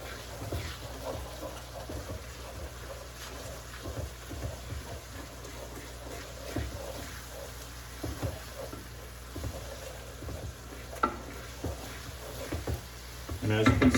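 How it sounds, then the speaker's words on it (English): Taco filling with ranch seasoning bubbles and sizzles in a pan with a soft, steady crackle, plus occasional stirring knocks close by. "this is definitely at a boil, so I'm going to lower the heat"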